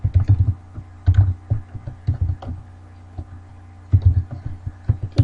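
Irregular clusters of sharp keystroke clicks, close and fairly loud, typed in quick bursts with a short pause in the middle, on a computer keyboard while entering a simple program with yes/no conditions.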